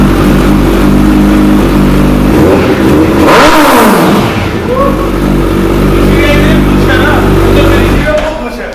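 A 2021 Suzuki Hayabusa motorcycle with an Akrapovic exhaust revs hard nearby, its loud engine note climbing and falling in one sweep over a steady idle rumble.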